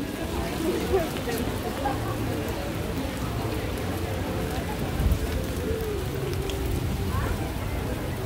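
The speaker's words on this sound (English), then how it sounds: "So this is Kikar Tzion, the Zion Square, in the rain" Steady rain falling on the streets of Zion Square in Jerusalem, a constant soft patter and hiss with scattered drops, moderately loud throughout, with faint voices and street sounds underneath.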